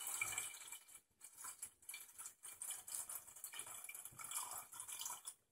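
Filtered water splashing and running as it is poured, with uneven bursts and brief pauses, fairly close and moderately quiet.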